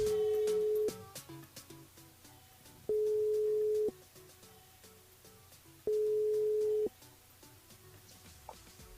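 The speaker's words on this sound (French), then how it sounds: "Elle appelle Karine sur le jeu, c'est parti" Telephone line tone during a call-in radio show, three steady beeps of about a second each spaced evenly apart, with quieter background music and sound between them and no talk.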